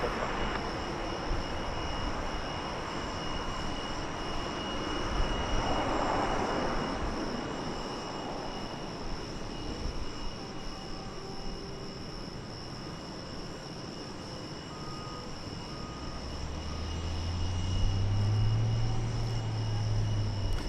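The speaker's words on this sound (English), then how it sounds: "that's one of the UPS MD-11s that we've got on hand right now" A UPS MD-11 cargo jet at DFW airport, a steady distant engine roar and rumble that swells slightly toward the end, heard alone without talk.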